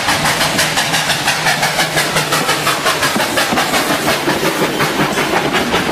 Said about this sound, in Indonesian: Wih, kereta api.